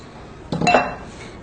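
A utensil clinks against a dish while honey paste is mixed, a brief close scrape and clatter lasting under a second against quiet background.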